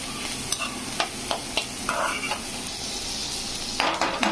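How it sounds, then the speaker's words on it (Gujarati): Shredded cabbage sautéing in oil in a pan for a spicy vegetable masala noodle dish, a steady close sizzle broken by regular clicks and scrapes of stirring. "પાંચ મિનિટ આપણે સોટે થવા દઈશું તેલમાં અને સરસ."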